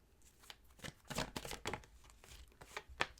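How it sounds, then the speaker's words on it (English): Tarot cards drawn from a deck and laid out, a series of soft papery slides, flicks and snaps at close range in an irregular rhythm, with no talking. "Pull some additional cards here."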